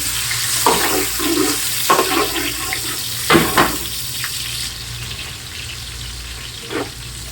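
Onions frying in a pan, a bright hissing sizzle that flares up in several bursts as the pan is stirred, then settles into a quieter steady crackle, close by with no talk.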